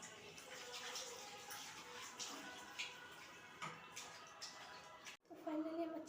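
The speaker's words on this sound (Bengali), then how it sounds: "মাংসটা ধুচ্ছি।" Raw chicken meat being washed under running water, a faint steady splashing and trickling throughout with occasional louder spatters, then a brief cut and a closer clatter at the end.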